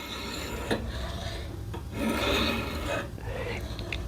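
A knife blade is drawn across the 320 grit stone of a Vevor sharpener, giving a few steady raspy grinding strokes that rise and fall, close and moderately loud.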